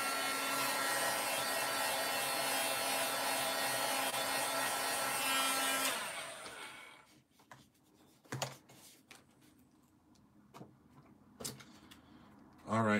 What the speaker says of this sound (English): I'm just going to heat set this real quick